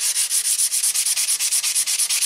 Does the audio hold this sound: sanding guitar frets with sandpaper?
yes